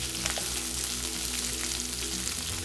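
Sliced onion, garlic and red chillies frying in oil for paneer kung pao, a brief, even, moderately quiet sizzle with faint crackles and no voices.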